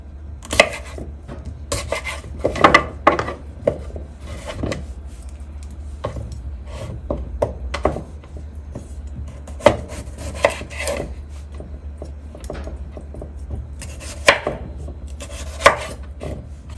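A knife chops carrots, potatoes and other vegetables on a board in irregular bursts of sharp knocks, some quick runs and some single strikes, close and clear over a quiet kitchen hum.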